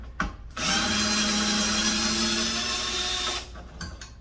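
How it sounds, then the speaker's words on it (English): DeWalt electric screwdriver spinning up and running for about three seconds with a steady whirring motor whine, close and loud, with short clicks just before and after. "Thank you to Brother Craig for buying me this great DeWalt electric screwdriver."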